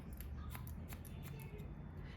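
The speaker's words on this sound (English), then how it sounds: "Just gonna point cut into that." Scissors point-cutting hair during a women's haircut, giving a quick series of light, crisp snips close by over steady background hum.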